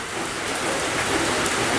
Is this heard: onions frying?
no